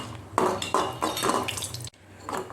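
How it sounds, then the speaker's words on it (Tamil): Cardamom roasts in ghee in a pan for kesari, with a few close metallic clinks and scrapes of a spoon against the pan over a light background sizzle. "ஏலக்காவை போட்டு வறுக்க வேண்டும்."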